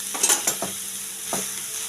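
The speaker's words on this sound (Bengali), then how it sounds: "এবার আমি গাজরটা দিয়ে দেবো এর মধ্যে, একটু ভাজা করে তারপর দুধ দিয়ে সেদ্ধ করবো" Grated carrots are stirred into hot ghee with spices in a wok. A soft sizzle runs under several sharp scraping strokes of a spoon against the pan, heard close and with no talking.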